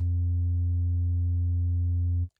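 A steady, low, pure sine tone from an analog-style oscillator in Output's Signal software synth holds at one pitch for about two seconds, then cuts off abruptly into silence.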